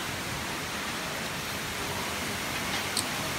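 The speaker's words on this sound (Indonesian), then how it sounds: "Air terjunnya tinggi banget." Steady, dense rush of the tall Jeruk Manis waterfall in Lombok during the rainy season, a continuous roar without pause or voices.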